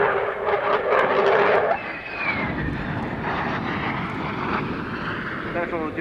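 A military aircraft drones loudly overhead while landing with its undercarriage coming down, a steady engine roar with a descending whine, and a voice talks over it.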